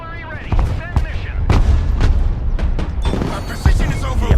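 Artillery fire in the military strategy game Broken Arrow, a series of sharp booming shots at irregular intervals, several loud and close, under someone talking excitedly over the action.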